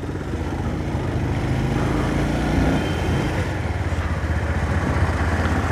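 Motorcycle engines rumble steadily and close by on a landslide-damaged road in Arghakhanchi, a continuous engine drone with no talk over it.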